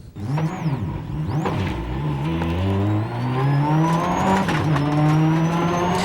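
A WRC rally car at the 2002 Rally Australia takes a corner hard, its engine loud and close with rising and falling revs through gear changes, strong throughout.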